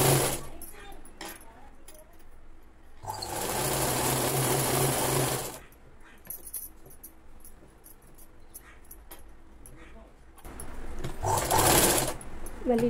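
Sewing machine stitching a double-folded cloth hem on the bottom of a Punjabi dress. Two loud, close bursts of steady whirring run a few seconds each, with quiet handling noises and brief talk in between.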